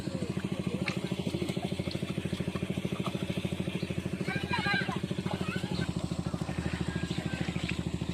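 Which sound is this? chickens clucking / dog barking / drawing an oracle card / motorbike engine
motorbike engine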